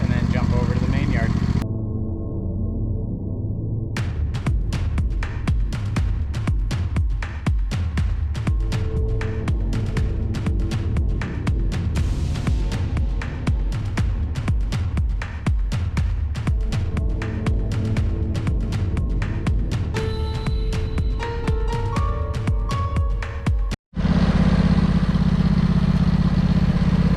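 A lawn dethatcher's engine runs steadily with a throbbing, pulsing drone over a long stretch, close and loud, with a brief cutout near the end before resuming.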